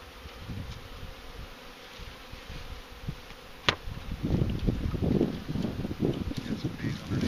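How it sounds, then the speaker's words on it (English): Honey bees buzz around a hive during a package install in Hiwassee, Virginia, a steady low drone that swells louder in the second half, with a sharp knock partway through. "Get some bees underneath it."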